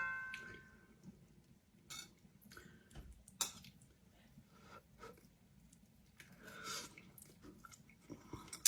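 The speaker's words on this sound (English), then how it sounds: "let's taste this meat" Quiet, close-up chewing of cooked Boston butt pork, soft wet mouth sounds and small bites coming in irregular bursts over a low background hum, with no talking.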